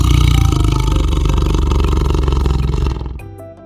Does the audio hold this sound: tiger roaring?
yes